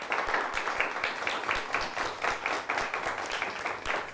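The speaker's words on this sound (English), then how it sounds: "Let's give him a nice round of applause." The studio audience at the Quiz Central high-school quiz show, Ludington vs. Frankenmuth, gives a round of applause: brisk, continuous clapping from a modest group, steady and moderately loud for about four seconds.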